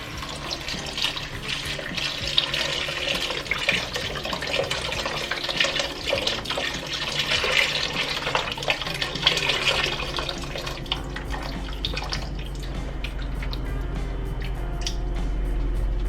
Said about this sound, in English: we can add in our beef broth